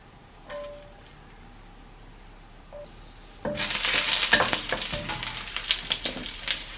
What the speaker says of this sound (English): Now, when it is hot enough, put in 2 tablespoons of cooking oil. Put in the onion.